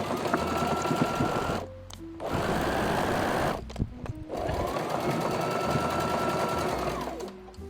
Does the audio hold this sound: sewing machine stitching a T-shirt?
yes